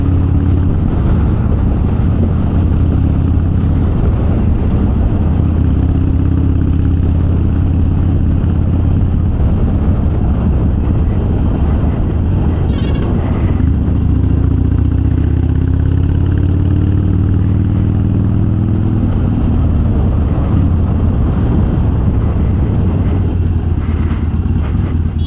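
A Harley Sportster fitted with Vance & Hines Twin Slash 3-inch slip-on exhausts and a Fuelpak FP3 rumbles steadily at idle, loud and close, with a deep, uneven throb and occasional small revs throughout.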